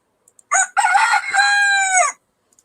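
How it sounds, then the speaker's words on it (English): A rooster crows once, loud and close: a short opening note, then a long drawn-out call that ends abruptly, with silence on either side. "we got roosters on the show sometimes"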